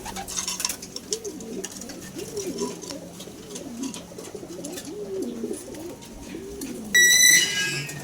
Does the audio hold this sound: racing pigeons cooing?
yes